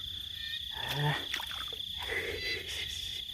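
Frog calling at night near a hook-and-line trap baited with earthworms, a repeated croaking close by over a steady insect drone, with someone talking quietly through it.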